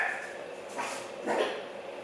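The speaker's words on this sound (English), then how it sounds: "I don't know what they're barking at, but you know dogs." Dogs indoors bark a few times at moderate distance, two sharp bursts of barking over a quiet room.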